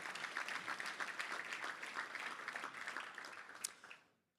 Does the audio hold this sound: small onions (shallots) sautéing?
no